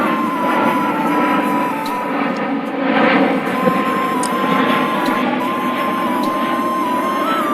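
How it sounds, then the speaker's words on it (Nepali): An airplane passing overhead, a loud continuous engine roar that fills the whole stretch steadily. "ए यो प्लेन पनि डिस्टर्ब गर्छ यार"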